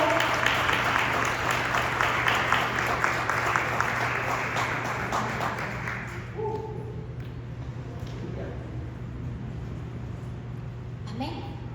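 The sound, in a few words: applause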